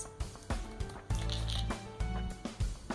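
Scissors cutting strips from a diamond-pattern wrap roll for wedding decor: a rapid series of close snips and rustles over a steady background hum, no speech.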